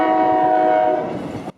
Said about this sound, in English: is required to blow the horn approaching the crossing